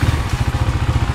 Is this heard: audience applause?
no